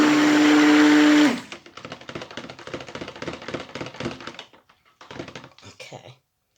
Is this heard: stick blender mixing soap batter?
yes